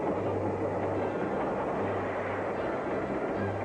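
Train in a 1930s serial film: a dense, steady roar of rumbling wheels and machinery, loud and unbroken, with a low droning tone that fades in and out underneath.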